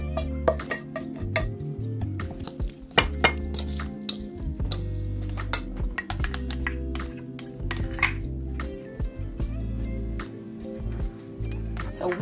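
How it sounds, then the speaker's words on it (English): Riced cauliflower, ground beef and black soybeans being stirred together in a dish for a keto taco casserole, with steady clinks and scrapes of a utensil against the dish throughout. "So we are going to add our riced cauliflower, our ground beef, and our black soybeans together and stir them around."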